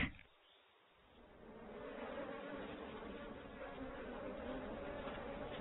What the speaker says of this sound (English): These two are honeybees.